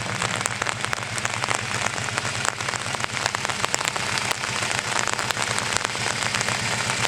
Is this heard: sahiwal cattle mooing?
no